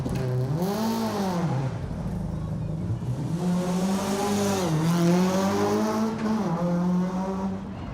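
A Subaru Impreza rally car works through an asphalt stage of a rally in Wales. The engine revs rise and fall in repeated swooping sweeps as it brakes and accelerates between corners, fairly close and loud, with no talk.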